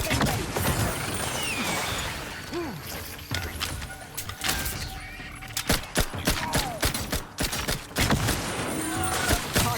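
Dense bursts of gunfire from a war-zone battle in The Outer Worlds 2, with rapid overlapping shots and mechanical clatter that continue steadily throughout, plus brief voices in the mix.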